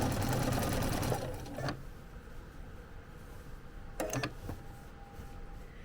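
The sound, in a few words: sewing machine stitching a leaf's center vein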